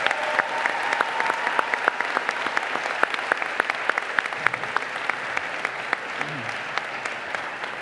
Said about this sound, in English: Graduates, can you please join me in giving them a rousing round of applause?